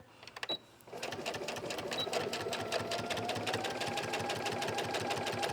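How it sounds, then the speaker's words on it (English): A sewing machine stitches fabric with a rapid, steady mechanical whir after a brief pause and a few quiet clicks, running nearby and fairly softly without talk. "I'm going to flip that over so that I sew towards the thumb hole"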